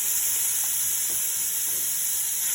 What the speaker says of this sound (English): We're gonna saute this.